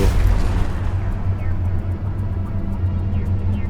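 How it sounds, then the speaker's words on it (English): Explosion in the video game Mass Effect, heard as a sustained loud low boom and rumble that fills the whole clip with no voices. "Someone still shooting, or was that just an explosion?"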